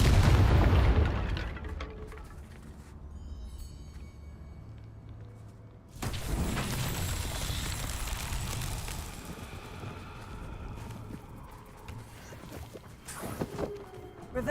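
A Confringo spell explodes in Hogwarts Legacy, a heavy low boom at the start that fades into game ambience, followed by a second sharp burst and rumble midway.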